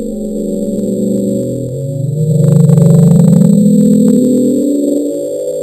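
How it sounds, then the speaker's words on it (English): A large ice quake recorded underwater produces a deep, loud, rumbling groan that swells in the middle and then fades, with a faint crackling texture riding above it. "After studying the sound, geologists said it was the sound of a large ice quake."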